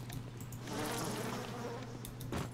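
A swarm of bees in the BioShock video game buzzes loudly and continuously in a dense droning hum, with no talk.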